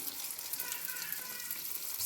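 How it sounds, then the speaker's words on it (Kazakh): Baursak dough pieces fry in hot oil, giving a steady, dense sizzle and crackle that holds evenly throughout, close and continuous with no talk. "Енді жайлап бауырсақтарымызды салып"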